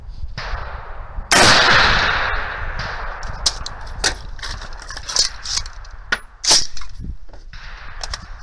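PWS MK216 rifle with feeding problems fired outdoors: one loud sharp report early on, followed by a scatter of metallic clicks and clanks from handling the action.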